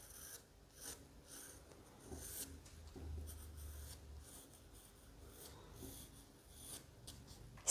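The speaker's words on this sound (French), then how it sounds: "On va commencer à faire le dessin." A pencil sketches a branch with leaves on paper, producing soft, intermittent scratching and rubbing strokes, quiet and close, with brief pauses between strokes and no voices.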